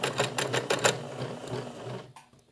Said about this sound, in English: So I'm going to put my needle down, and we're just going to stitch to this corner